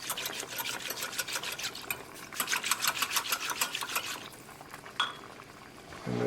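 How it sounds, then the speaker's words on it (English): Chicken broth bubbles in a pan for a chicken marsala gravy, a fast, rattling simmer of tiny pops at close range with a faint clink near the end. "the chicken broth is nicely bubbling"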